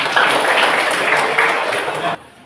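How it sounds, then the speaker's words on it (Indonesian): A classroom of students claps together for a classmate, a short burst of dense applause that cuts off abruptly near the end, leaving quiet room tone. "bagus, tepuk tangan"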